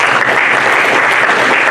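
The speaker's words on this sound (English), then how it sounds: "You can always applaud Coach" An audience at the Allegheny Athletics Hall of Fame ceremony applauds Coach Norm Sundstrom, a loud, dense wash of many hands clapping evenly throughout, close and continuous with no talk over it.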